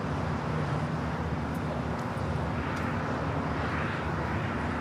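An Airbus A330neo airliner at LAX produces a steady, broad roar of jet engine noise that holds constant throughout, loud and close with no pauses and no voices.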